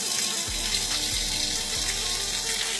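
Water streams steadily into a newly dug village well as a continuous, close rushing and trickling wash. A few low thuds sound underneath, and there is no talking.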